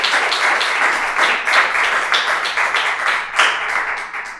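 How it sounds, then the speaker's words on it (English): Audience applause at a town candidate forum in Garrett Park, a steady wash of many hands clapping in a hall with small surges and no talking over it. "let's give them a round of applause"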